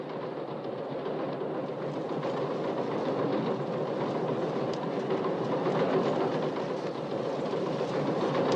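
A passenger train rolls steadily along its rails with a continuous rumbling drone and soft clickety-clack. The sound stays even and moderately loud throughout, heard from inside the train, with no talking.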